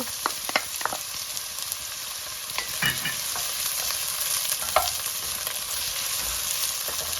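A big batch of red and white onions frying in hot oil, with a dense, even sizzle close up and a few scrapes and clatters as they go into the pan at the start.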